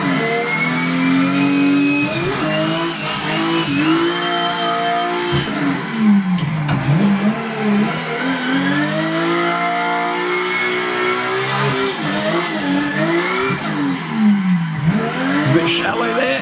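Engine of a drift car screaming through laps at the Nishi track in a racing sim game, a loud continuous rev that rises and falls with throttle changes, with tire squeal mixed in and no pauses.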